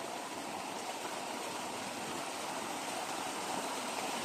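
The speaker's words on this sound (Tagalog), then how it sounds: "At ano to kasi? Sapa." Steady rushing of a stream pouring across a collapsed, damaged mountain road, a constant broadband wash of water with no breaks, moderately faint and heard alone without talk.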